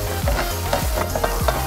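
Broth poured into risotto rice with artichoke cooking over medium heat in a pan, a steady close sizzle with a few soft stirring scrapes, no talking.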